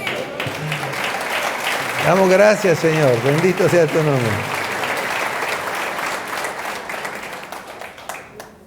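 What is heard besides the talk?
congregation applause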